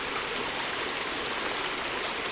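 A woodland stream flows steadily, its continuous broadband rushing and babbling close and fairly loud, unbroken for the whole stretch with no voices.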